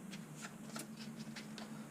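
A deck of cards for a Transformers deck-building game being shuffled by hand, a quick run of soft riffling flicks close by and quiet, over a low steady hum.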